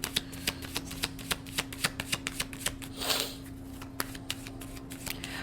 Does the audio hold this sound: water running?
no